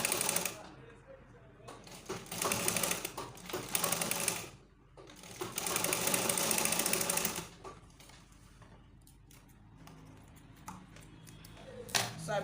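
A sewing machine stitches a gathered baby girl's gown in several bursts of rapid mechanical rattling, separated by pauses and quieter handling of the fabric, close by.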